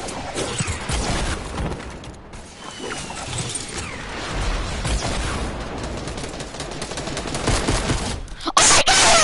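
Rapid bursts of pistol gunfire ring out in the Fortnite video game, repeated shots layered in a dense, continuous battle mix with a sharp crash near the end.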